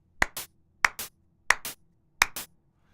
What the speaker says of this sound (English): So every time I clap, it generates that bang, we hear that noise.